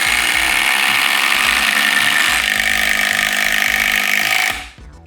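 Vintage DeWalt power tool running at speed 3, a loud, steady whining roar with a faint pitch change partway through, held at high speed before cutting off abruptly and spinning down near the end.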